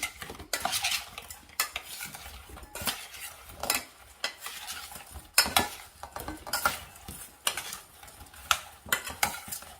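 Little baby potatoes tossed and stirred in oil inside a bowl or pan, with repeated scraping, clinking strokes in an irregular rhythm, close and fairly loud throughout, no talking.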